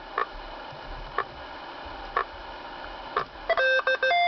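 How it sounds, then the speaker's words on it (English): Phone notification sound heard over a steady hum, with regular soft ticks about once a second, then a quick run of bright electronic beeps near the end. "just a notification"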